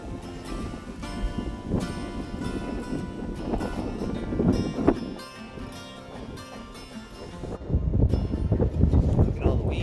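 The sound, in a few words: wind blowing over water while fishing from a boat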